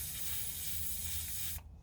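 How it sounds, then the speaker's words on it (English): Compressed air hisses in a steady spray as it blows water out of airsoft gun bearings, close and fairly quiet, then cuts off abruptly near the end. "to spray inside the bearings and just get any excess water out that's left inside."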